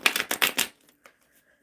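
Four quick riffling bursts of tarot cards being shuffled close by, followed by a couple of faint taps and near silence.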